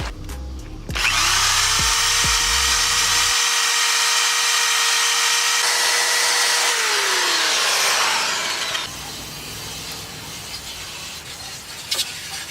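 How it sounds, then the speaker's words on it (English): Power tool spinning a wire wheel against rusty metal in a Thunderbird engine bay: a high whine ramps up, holds steady for several seconds, then winds down, loud and close, with some brief clunks beforehand. "I'm using the wire wheel to just knock any rust off and get it prepped."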